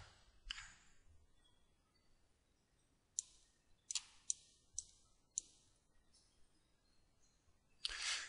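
A computer mouse clicks sharply about eight times in an otherwise quiet room, the clicks close and distinct, spaced irregularly with a short burst near the end.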